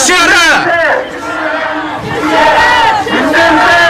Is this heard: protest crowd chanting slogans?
yes